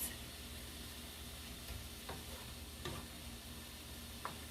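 Shrimp fry steadily in a hot pan with a soft, continuous sizzle, broken by a few light clicks and stirs as they cook.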